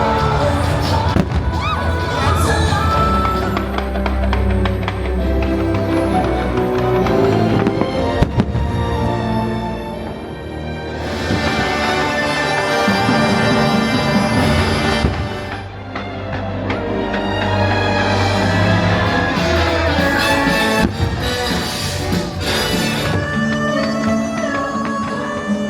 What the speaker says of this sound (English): And here is just a taste of the fireworks and the view you'll have